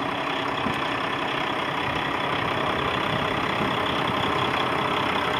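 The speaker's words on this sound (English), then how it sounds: "455 horse turbo diesel engine up front" A 2012 Peterbilt 365 truck with a 455 hp turbo diesel engine idles steadily, a constant low rumbling drone with a hissing wash on top, close and unchanging.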